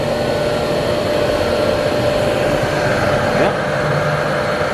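A Sunnen CRG 750 connecting rod grinder runs on its newly replaced motor, a loud steady whirring hum that holds constant throughout, with someone briefly speaking over it.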